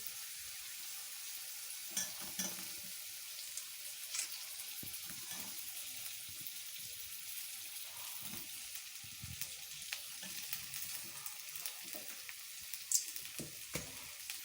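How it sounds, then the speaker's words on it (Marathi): Chopped potatoes frying in a pan for samosa filling give a faint, steady sizzle, with occasional soft stirring clinks and brief louder crackles, no talking. "आता आपण त्याच्यामध्ये चिरलेले बटाटे टाकून घेऊ."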